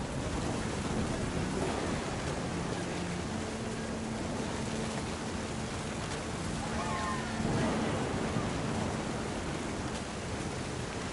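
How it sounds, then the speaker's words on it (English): Steady, hissing rain falls during a storm in What Remains of Edith Finch, with low thunder rolling under it throughout. A voice talks over the downpour. "The thunder sounded much too close and full of angry power."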